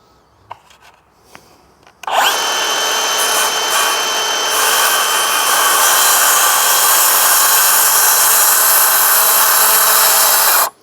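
A circular saw plunges into wood after a few faint clicks and handling noises, then whines loudly and steadily for about nine seconds before cutting off abruptly.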